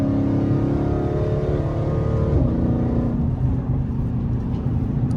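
An SRT car engine revs up hard, then shifts through paddle shifters with a clear drop in pitch midway. Afterward it settles into a lower, steady drone. The engine is loud and close, with no talk.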